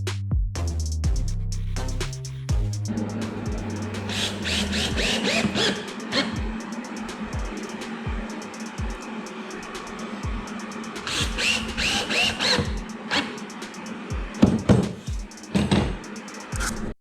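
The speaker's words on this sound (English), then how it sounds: "time to drill the hole." Power drill boring a hole into a wooden beehive box, with several bursts of whirring spin-up and slowdown between pauses, alongside knocks and handling noises close by.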